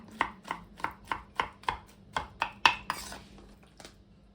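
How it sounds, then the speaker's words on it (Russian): A knife finely chops eggplant on a cutting board in a quick, even series of about a dozen crisp taps, close and fairly quiet, with one sharper clink partway through before the chopping trails off. "Также мелко нарезаю их."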